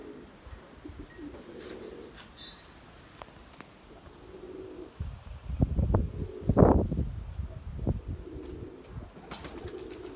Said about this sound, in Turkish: Kuşlar burada.